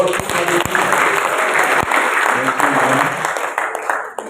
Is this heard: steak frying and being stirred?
no